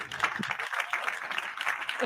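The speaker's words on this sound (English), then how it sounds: "give him an applause" A burst of applause from a small group, moderately loud and continuous for a couple of seconds, with a brief voice underneath.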